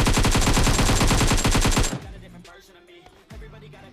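Automatic gunfire during a fight in PUBG Mobile, a loud, rapid burst of shots lasting about two seconds, followed by fainter scattered sounds and a short thump, with no talking.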